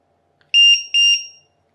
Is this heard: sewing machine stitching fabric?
no